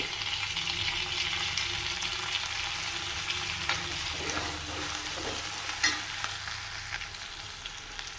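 Curry leaves, mint and masala frying in oil for a ghee-rice-style beef roast, a steady close sizzle with occasional scrapes and taps of stirring, no voices.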